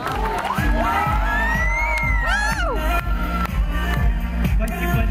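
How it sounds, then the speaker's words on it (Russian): Crowd cheering and shouting from a city-day festival audience in Gatchina after a little girl's handstand, cartwheel and dance, carried over loud music with a steady thumping beat. "Аплодисменты за стойку и"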